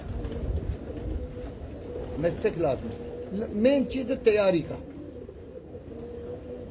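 Pigeons coo in soft, throaty bursts on a Karachi rooftop, a few rolling calls nearby while someone talks steadily over them.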